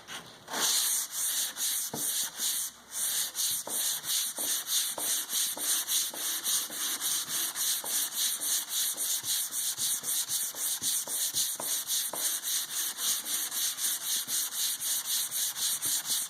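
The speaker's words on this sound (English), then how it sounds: "What I have here is just a sanding sponge and some 220, and I'm just going to use that to quickly pull off some of this black." Hand sanding of ebonized curly maple with a 220-grit sanding sponge: a steady, continuous close-up rasping scrub with rhythmic back-and-forth strokes throughout, no talking.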